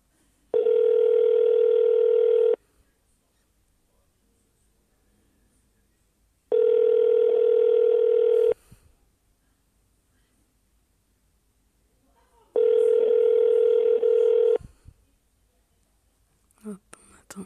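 An outgoing phone call rings through, giving three evenly spaced ringback tones heard over the line, each lasting about two seconds, with quiet pauses and faint rustling in between.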